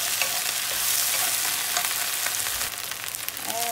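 Okra stir-fried in a pan for a simple home-cooked dish, giving a steady close sizzle and frying hiss with scraping stirs, continuous throughout with no talk.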